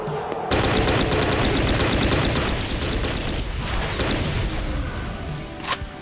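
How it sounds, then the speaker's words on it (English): A military rifle fires a long, loud, continuous full-magazine burst of rapid shots in Ashes Afterglow, the dense automatic fire filling most of the clip before one last thud. "Nothing a mag dump from the military rifle can't fix"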